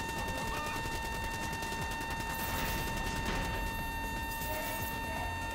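Rapid bursts of automatic gunfire and shooting fill a Call of Duty-style campaign video game, a dense, steady barrage with mechanical clatter running throughout at constant loudness.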